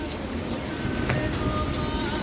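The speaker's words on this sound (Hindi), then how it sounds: "देखिए इतना बारिश हो रही है, इतना तेज।" Heavy rain pouring down in Ayodhya, a dense continuous hiss and patter of water on surfaces, loud and steady throughout.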